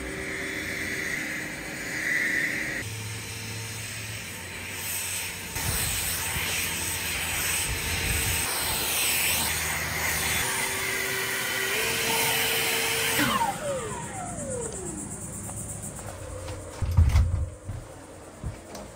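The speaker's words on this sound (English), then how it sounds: "Need to grab my blower here and go clean up these two yards" Battery leaf blower clearing residential yards alongside solar-powered lawn care, a whooshing whine that rises and falls with handling noise and clunks near the end, no talking.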